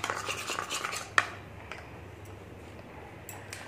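A spoon mixing yogurt and turmeric face pack in a bowl: a quick run of soft scraping stirs, then a sharp clink against the bowl and a few faint taps, close and quiet.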